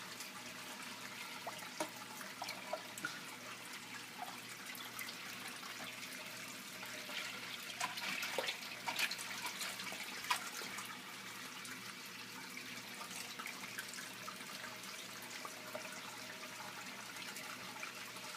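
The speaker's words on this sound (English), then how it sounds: "A silly little pipe resting on there, causing the water to just kind of flow the way I want it to" Water pours steadily through a small pipe into a DIY aquarium filter on a 100-gallon tank setup, a constant close splashing trickle with no talk.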